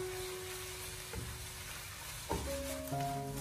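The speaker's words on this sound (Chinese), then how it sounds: "我们开大火给它翻炒1分多钟，" Cabbage stir-fried over high heat in a wok crackles with a low steady sizzle, broken by a few sharp clanks and scrapes from tossing.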